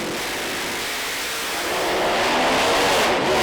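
Pro Mod drag race car making a run at Santa Pod Raceway, a loud broadband engine roar that swells and grows louder through the second half, alone with no talk.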